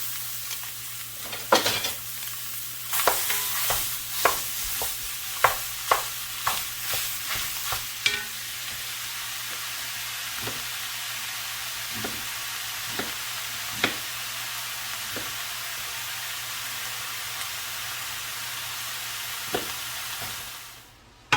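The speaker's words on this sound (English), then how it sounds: "if I'm gonna cook sausage and kind of stink up the house, I'm gonna cook 2 pounds" Sausage sizzles steadily in a pan. A utensil stirs and scrapes it repeatedly, with clustered knocks early on and sparser ones later, and the frying hiss continues until it cuts off at the end.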